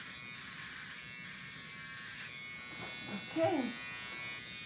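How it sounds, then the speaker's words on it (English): Electric shaver steadily buzzing as it shaves hair down during a hair transplant procedure, a continuous near drone with people speaking briefly over it. "Is now shaving it down even more."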